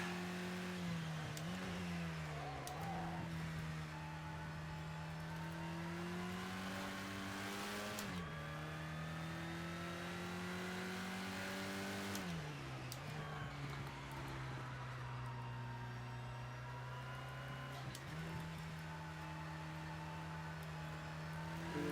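Race car engine in the Project CARS 2 video game, revving high and dropping sharply at each gear shift, repeated rising whines with brief dips, loud and continuous without talk.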